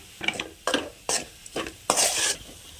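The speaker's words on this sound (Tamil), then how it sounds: "இப்போ இது கூடவே நான் கொஞ்சமாக உப்பு ஆட் பண்ணிக்கிறேன் உப்பு உங்களோட தேவைக்கேற்ப ஆட் பண்ணிக்கோங்க இப்போ நல்லா மிக்ஸ் பண்ணிடலாம்" Mashed tapioca masala being mixed with salt for cutlets, four or five short scraping, squishing strokes of a spoon through the thick mixture, close and brisk with no talking.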